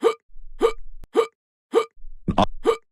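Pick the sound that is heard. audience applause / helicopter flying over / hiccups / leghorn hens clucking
hiccups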